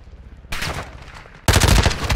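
Rapid automatic gunfire in Call of Duty DMZ rattles in a dense burst, then turns sharply louder and closer as a second heavy stream of shots takes over.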